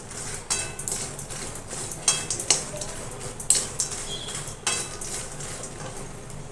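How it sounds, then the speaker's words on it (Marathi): Makhana being mixed into roasted masala in a pan over a low flame, with close, irregular scraping and clinking of a spoon against the metal and a steady soft background hiss, with no talking. "त्याच्यामध्ये मखाणे घालून घेऊ, पूर्ण मिक्स करू।"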